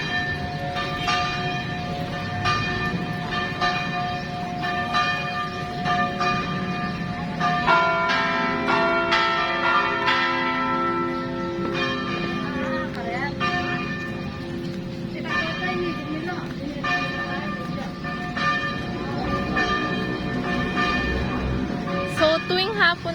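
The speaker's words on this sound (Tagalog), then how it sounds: "Yan, tumutugtog na po yung bell." Church bells ring on a Sunday for mass in Magalang, Pampanga, Philippines, a sustained resonant peal with layered tones running through the whole stretch, heard amid street ambience with some talk.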